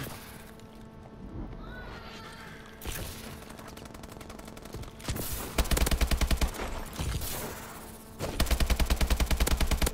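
Rapid bursts of automatic gunfire from the video game Advanced Warfare, loud and close, alternating with quieter stretches of game ambience.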